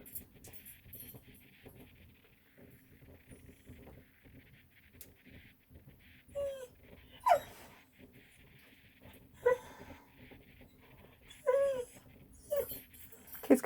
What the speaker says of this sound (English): the dog's got pepper up her nose